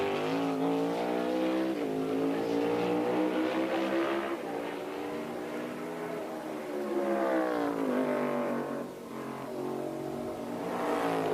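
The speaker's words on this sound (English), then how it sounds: "See that car sliding around a lot right there up the racetrack." NASCAR Cup Series cars race around the track at North Wilkesboro during practice, loud engines droning and rising and falling in pitch as they pass, with one car sliding up the track.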